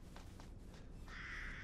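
A crow caws in the video game Resident Evil Village, a few faint soft calls followed by one longer, louder caw over a quiet ambient background.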